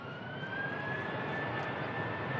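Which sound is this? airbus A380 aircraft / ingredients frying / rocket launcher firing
airbus A380 aircraft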